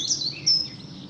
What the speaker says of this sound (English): as you can hear in the background, plenty of birdsong, wrens, robins,